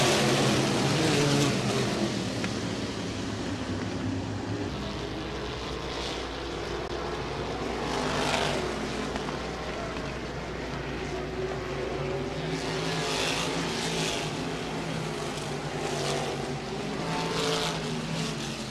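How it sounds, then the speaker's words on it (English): Sprint cars race at Berlin Raceway during the 2021 season, their engines forming a continuous droning roar with rising and falling passes heard from a distance under a loud, steady background wash. "sprint cars getting ready to go under green for the final time at Berlin Raceway in the 2021 season"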